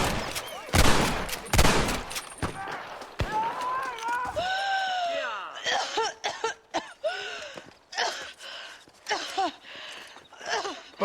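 Rapid gunfire bursts from a Red Dead Redemption shootout crack loudly in the opening seconds, then give way to mixed voices and scattered effects.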